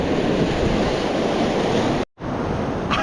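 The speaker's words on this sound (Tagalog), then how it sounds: "Grabe nakalakas ng alon guys." Strong ocean surf roars steadily at a fishing spot, loud broadband wash with wind buffeting the microphone, briefly cutting out for a moment before the crashing waves resume.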